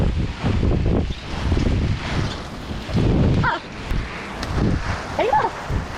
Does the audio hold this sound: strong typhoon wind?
yes